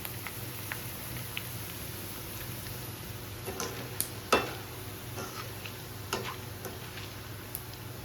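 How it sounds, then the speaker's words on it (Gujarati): Small bhungli pellets fry in hot oil, a quiet, low background sizzle broken by scattered crackles, pops and light clicks, with one sharper pop standing out midway. "ચાલો, આ પણ તળાઈ ગઈ છે ભૂંગળી."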